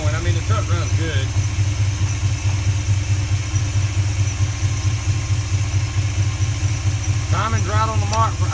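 A truck engine with a 4-barrel carburetor fitted on a 2-barrel intake idles steadily, a loud, even low rumble that runs throughout, while someone speaks over it at the start and again near the end.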